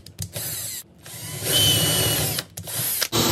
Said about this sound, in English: Drill a hole in the rest of the trap.